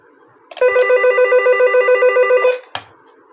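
An intercom door bell rings in a fast, buzzing electronic trill for about two seconds, loud and close, followed by a short click.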